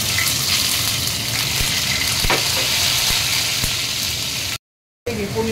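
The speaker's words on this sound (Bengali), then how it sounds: "এবারে পনিরগুলো ভাজবো," Paneer frying in hot olive oil, a dense loud sizzle and crackle close up that holds steady, then cuts out abruptly before resuming briefly.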